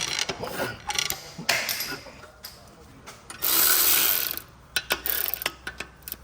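A ratchet tightens clutch bolts on a Hyundai Getz during a clutch replacement, with sharp clicking ratchet strokes and a sustained burst of rapid ratcheting midway, close up in a workshop with metallic tool handling around it.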